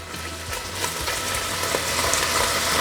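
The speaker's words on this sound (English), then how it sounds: "we're just going to pop in some of the beef and that's going to start rolling" Beef pieces sear in batches in a hot pan for slow-cooked beef flank, a steady loud sizzle with occasional crackles and spatters running throughout.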